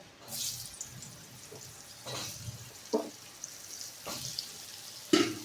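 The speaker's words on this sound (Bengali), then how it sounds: "ওই তেলের মধ্যে আবার কুমড়োগুলোকে ভেজে নেব।" Pumpkin pieces sizzle in hot oil in a home kitchen, a soft steady fry with a few louder crackles and spatters popping up now and then.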